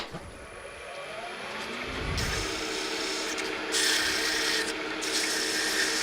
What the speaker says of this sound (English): I won't spend too long sanding this